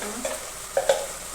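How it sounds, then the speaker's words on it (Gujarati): Ginger, garlic and chilli paste frying in hot oil, a soft steady sizzle with a few brief scraping stirs of a spoon, close and fairly quiet, no talking. "આદુ, લસણ અને મરચાંની પેસ્ટ બરાબર સંકળાઈ ગઈ છે, મતલબ કે તેલમાં બરાબર પાકી ગઈ છે"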